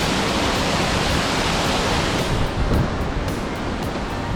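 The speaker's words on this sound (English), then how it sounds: "So here's waterfall number 2." Waterfall on Sulphur Creek in Capitol Reef, Utah, roaring steadily and close, a dense broadband rush of falling water over slick rock with no voices.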